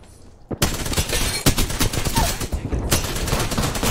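Rapid Spitfire machine gun fire in Apex Legends bursts in after a brief quiet start, a dense continuous stream of loud close shots with a few sharper cracks, running to the end.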